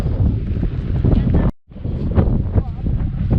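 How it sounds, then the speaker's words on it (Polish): Loud, gusty wind buffeting the microphone, roaring continuously with a brief dropout midway. "Jaki tu wiatr."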